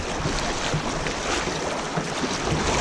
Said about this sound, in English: I just want to keep paddling here to maintain stability.